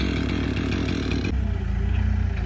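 A chainsaw runs loud and close while cutting through a pile of wood, its engine holding a steady buzzing roar that drops slightly in pitch about halfway through as the chain bites in.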